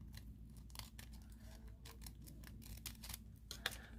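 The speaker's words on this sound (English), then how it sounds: "let me cut a piece of this foil here so I can show you how beautiful" Scissors snip through a small piece of nail art foil in a series of quick, crisp cuts, each close and fairly quiet, with no one talking.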